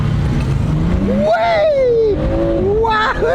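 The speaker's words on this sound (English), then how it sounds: "It's a 6-cylinder engine that's good enough by itself, but when you stick a turbo on it" A turbocharged six-cylinder car engine accelerating hard on bumpy Rhode Island roads, revs climbing and dropping through gear changes in a loud, close drone, with a voice faintly underneath.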